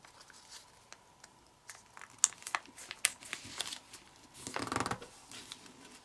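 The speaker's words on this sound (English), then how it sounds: "and we're making a new fold right there." Paper is folded, flattened and creased by hand to make an origami Xbox game controller, giving soft crinkles and sharp close crackles at irregular intervals, ending in a longer rustling crease, with no talking.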